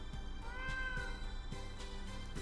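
A single short meow from a cat in a cat-care video game, sounding over a quiet, looping background tune with soft rhythmic beats.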